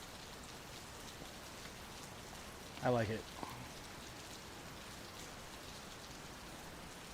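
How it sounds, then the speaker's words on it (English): Steady rain falling around a modern building overhang during a typhoon in Saitama City, a dense even hiss throughout with a brief spoken comment partway. "the rain's getting through a little bit, but it's not that bad"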